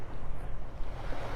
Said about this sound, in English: the wind's starting to pick up here.